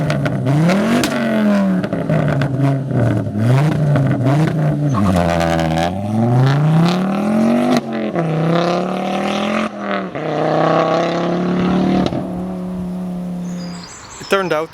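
Ford Focus RS MkII with a straight-pipe exhaust, engine revving loud and close in repeated rising and falling sweeps, with sharp throttle blips before settling into a steadier drone near the end.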